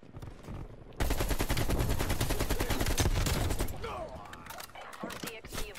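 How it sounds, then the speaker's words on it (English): A fully automatic AK rifle fires in Black Ops Cold War, a loud, rapid, steady burst of around three seconds after a short quiet lead-in, followed by fainter clinks and scattered game sounds. "My AK is one pretty powerful gun."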